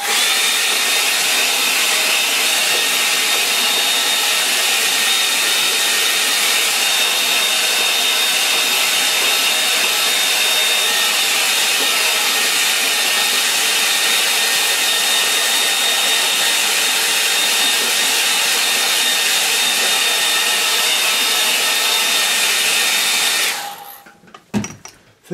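A hair dryer blows steadily and loudly across a wet watercolour painting, a constant close whooshing hum that runs almost unbroken before switching off near the end.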